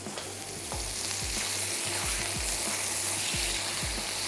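Garlic and ginger sizzle hard in hot oil while a spatula stirs and scrapes through the pan, the frying hiss steady and loud under repeated thumps of the stirring. No talking.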